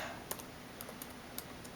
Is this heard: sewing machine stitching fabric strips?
no